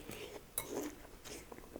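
Raw green onion gets a few soft, crisp crunching bites and some chewing during a Korean barbecue meal, faint and close with no talk over it.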